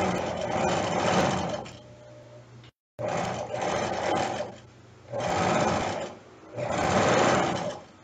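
A sewing machine runs topstitching along a straight skirt in four loud, steady whirring bursts, each about one to two seconds long, separated by short pauses, with no talk.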